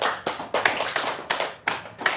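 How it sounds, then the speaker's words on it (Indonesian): A few people clap hands in a brief, uneven burst, roughly eight sharp claps close by, with no talking. "Tepuk tangan dulu dong."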